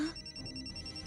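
A faint electronic phone ring tone sounds briefly, with a steady high tone over low background noise.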